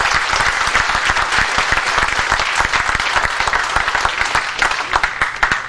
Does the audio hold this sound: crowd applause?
yes